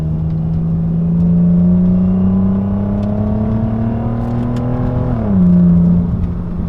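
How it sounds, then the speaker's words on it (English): A 2008 Saab 9-3 Turbo X SportCombi engine pulls hard and loud, its droning pitch climbing steadily, dropping with a gear change, then building again. "Love how these cars sound."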